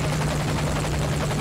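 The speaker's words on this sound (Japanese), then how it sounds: "ヘリに乗って潜入開始ポイントに移動します" A helicopter in Metal Gear Solid V flies with a loud, steady rotor thrum and a dense engine roar that never lets up. No one speaks over it.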